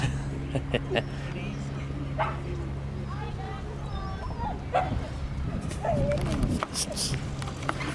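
Several dogs bark, yip and whimper on a coastal walk between North Shields and Whitley Bay, heard at mid distance over steady outdoor ambience.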